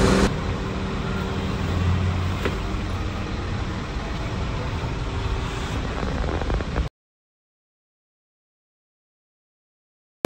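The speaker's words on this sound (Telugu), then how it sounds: "ఈ బస్సు వచ్చింది." A bus in Vung Tau, South Vietnam, gives a steady, moderately loud engine and road rumble for about seven seconds before the sound cuts off to silence.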